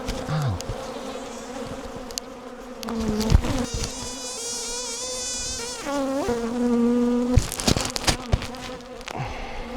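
Honey bees buzzing at the hive, a dense, continuous drone with individual bees' whines rising and falling as they pass near, plus occasional soft knocks and handling noises.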